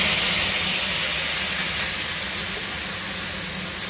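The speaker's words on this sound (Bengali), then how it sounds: "দিয়ে এটার মধ্যে পেঁয়াজ বাটাটা দিয়ে দেবো" Onion paste is dropped into hot oil with whole-spice tempering for a paneer white gravy, giving a loud, steady sizzling hiss that starts strong and eases slightly, heard close with no talk.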